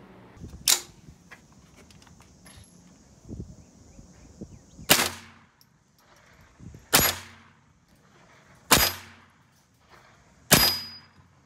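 Gunshots striking aluminum and steel test pieces, five sharp cracks spaced roughly two seconds apart, each with a brief ringing tail over quiet background rustle.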